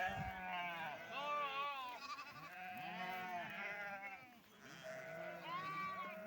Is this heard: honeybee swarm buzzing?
no